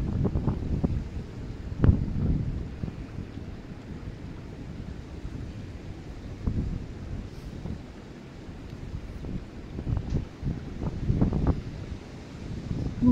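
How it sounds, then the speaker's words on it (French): Gusty wind buffeting the microphone outdoors, low rumbling bursts rising and falling over a soft steady background. "comme il y a un peu de vent"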